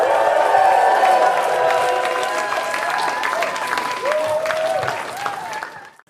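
A crowd applauding and cheering loudly, with whoops and shouts over steady clapping that fades out at the end.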